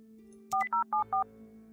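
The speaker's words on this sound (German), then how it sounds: "Telefon." Four evenly spaced telephone keypad tones sound in quick succession over a faint steady hum as a number is dialed in the video game New York Mysteries.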